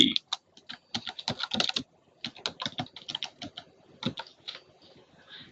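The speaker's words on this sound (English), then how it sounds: "go ahead and type in my search terms" Search terms for an HIV risk-factor lookup are typed on a computer keyboard in quick clustered bursts of close keystrokes, with a short pause midway and lighter tapping toward the end.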